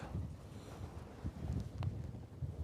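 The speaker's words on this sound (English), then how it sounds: "it's very much very windy out there" Steady low rumbling wind of about 14 mph buffeting an outdoor microphone, continuous and fairly loud, with no voices.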